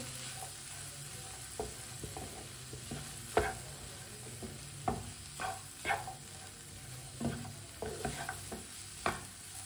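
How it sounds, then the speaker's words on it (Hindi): Chopped green chillies and tomato being stirred in a frying pan, a quiet sizzle under a series of close, uneven spatula scrapes and clacks against the pan, with no one speaking. "एक बरीक कटा हुआ टमाटर डालेंगे। अच्छी तरह मिक्स कर लेंगे।"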